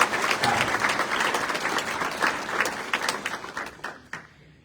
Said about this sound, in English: Please give them a round of applause because they are truly opening this event.